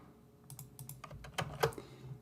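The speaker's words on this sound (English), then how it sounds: "we'll just start typing Sue" Keystrokes tapped on a computer keyboard, a quick irregular run of close, crisp clicks over a low steady hum, alone with no talk.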